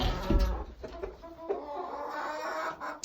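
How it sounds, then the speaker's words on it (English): Chickens in a Fairbanks, Alaska barn with a wood-pellet and sawdust floor, a flock of about thirty hens clucking and calling in irregular bursts at close range, with overlapping cackles and no talk. "I have 30 chickens"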